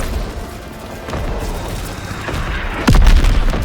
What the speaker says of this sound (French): Voilà, l'artillerie. Ça, c'est les bateaux qui... c'est les canons des bateaux.